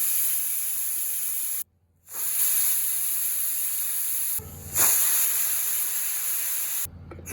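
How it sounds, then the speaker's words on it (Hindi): A pressure cooker cooking dal lets off a sustained, steady steam hiss, cut by brief silent breaks before the hissing resumes, close and fairly quiet. "अब कुकर को हमने 3 सीटी लगा दी है।"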